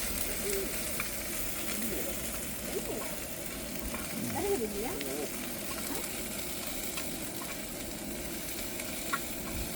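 Steady sizzling and crackling of lentils and spices tempering in hot oil, with occasional stirring scrapes, continuous and close throughout.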